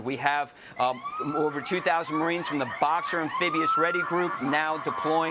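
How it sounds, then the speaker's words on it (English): A siren wails in the background, rising and falling beneath someone speaking steadily throughout. "pardon the sirens back there."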